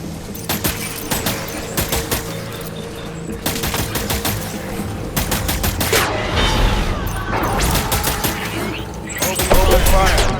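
Rapid bursts of automatic gunfire in the game Death Stranding come in close, loud volleys separated by brief pauses, with mechanical clatter and rumbling booms building toward the end.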